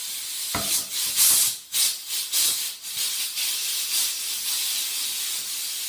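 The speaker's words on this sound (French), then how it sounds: "on commence à laisser sortir la vapeur." Steam hisses out of a pressure cooker holding rabbit as its pressure is let down, coming in loud, uneven bursts and surges with short dips between them before settling into a continuous rushing hiss.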